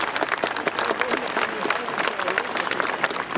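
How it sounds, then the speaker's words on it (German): A German party rally audience welcomes European Parliament candidate Ruth Firmenich with dense, continuous applause that holds at a steady level throughout. "das ist dein Applaus"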